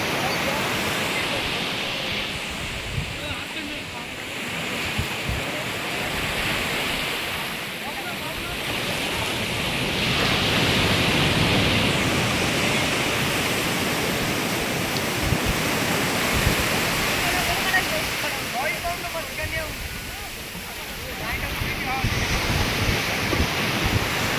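Sea waves at Kaup beach, a steady broad surf roar swelling and easing over time, with wind buffeting the microphone and faint voices in the background.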